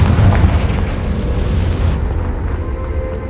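Confringo blasting spell explosion in Hogwarts Legacy, a heavy low rumbling boom that is loud at the start and slowly fades as the roar thins out.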